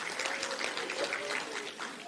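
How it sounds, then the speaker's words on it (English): Audience at the ANC NEC Lekgotla gives a sustained round of applause, even crowd clapping heard from some distance and fairly soft, with no speech over it. "Yes, we should applaud to that."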